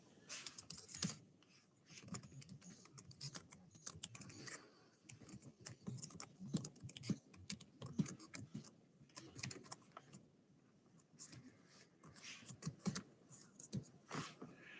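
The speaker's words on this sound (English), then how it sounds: "I'm going to type something in here." Quiet keys tapped on a computer keyboard in a home livestream setting, irregular bursts of typing running throughout with short pauses, no voices.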